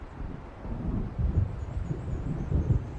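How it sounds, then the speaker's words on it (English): Low rumbling thunder of an approaching storm in the Alan Wake video game, a steady dull roll with a few heavier swells, heard alone with wind-like noise. "It seems there's a storm coming."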